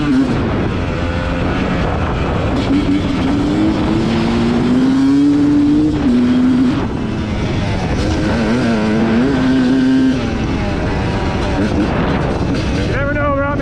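A 2019 Yamaha YZ250X two-stroke dirt bike fitted with a SmartCarb SC2 carburetor screams at speed on a trail, its loud buzzing engine pitch rising and falling as the throttle opens and eases, with wind noise throughout.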